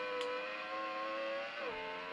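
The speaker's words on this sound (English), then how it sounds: "The screeching of the tyres, the actual engine noise." Car engine in an Amiga racing game, a steady synthetic drone with rising pitch and a quick downward sweep near the end, with a brief screech of tyres, loud and close.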